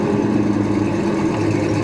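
A 1972 Pontiac Grand Prix classic car engine and exhaust: a loud, continuous low rumbling drone held steady throughout, close up, with no voices.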